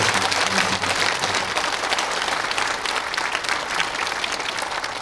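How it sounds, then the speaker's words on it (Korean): A church congregation at a New Year joint worship service in Mungyeong, South Korea, claps together in steady, lively applause, a thick, even patter of many hands that fills the room throughout without speech. "박수 한번 보내드리겠습니다."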